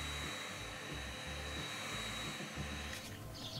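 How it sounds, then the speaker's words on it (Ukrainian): A hair dryer blows hot air in a steady, continuous whoosh, fairly quiet, with a low motor hum underneath, heat-shrinking plastic bottle material onto a fishing lure. "І осаджуємо гарячим повітрям від фену."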